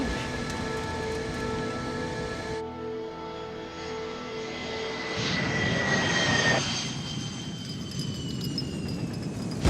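An Avro Arrow jet fighter sweeps through a high-speed turn, its jet engines giving a steady whine and rumble that swells into a louder, rushing roar before settling.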